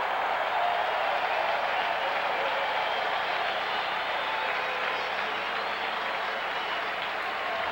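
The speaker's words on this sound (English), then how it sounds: "The applause is for Willard Reeves" A stadium crowd at a 1987 CFL football game in Winnipeg applauds steadily throughout, a broad wash of distant clapping and cheering with no talk over it.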